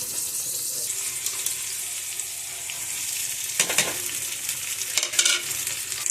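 Cooked rice goes into a pan with chillies for fried rice and is stir-fried, giving a steady hissing sizzle with louder scraping, tossing bursts toward the end, no talk.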